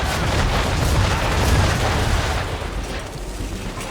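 Ship cannons firing during a naval battle in the video game Assassin's Creed 3, a loud, rolling barrage of heavy booms that swells and then slowly fades, with no voices over it.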